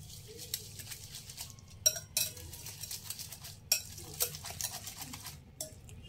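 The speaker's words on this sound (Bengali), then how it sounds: "একবার ভালোভাবে মিশিয়ে নেব।" Vegetables and salt being stirred in a bowl, with scattered clinks and scrapes of a utensil against the bowl and a soft rustling patter, fairly quiet and close.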